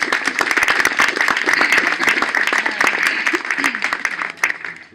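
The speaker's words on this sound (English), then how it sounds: "please give yourselves a big round of applause" An audience at a lecture on the African presence in early Europe claps steadily in warm, dense applause, close and lively, with a few voices mixed in before it thins toward the end.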